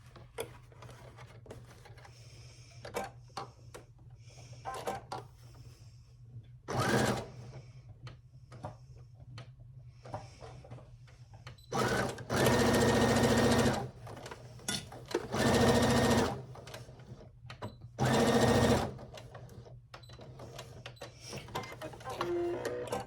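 A sewing machine stitches fabric for a small boxy zippered pouch in short bursts, with loud whirring runs and back stitches near the end between quieter handling clicks and pauses.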